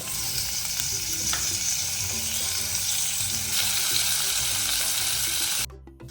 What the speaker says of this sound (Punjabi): ਹੁਣ ਪਿਆਜ਼ ਆਪਾਂ ਪਾਤਾ ਇਹਨੂੰ ਹਲਕਾ ਬਰਾਊਨ ਹੋਣ ਦੇਵੋ ਇੰਨੇ ਤੇਲ ਦੇ ਵਿੱਚ